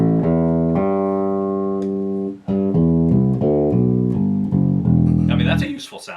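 Jazz Bass copy electric bass fitted with upgraded electronics, played on the front pickup with the tone rolled off, giving sustained warm low notes in a steady melodic line, loud and up close with no talking.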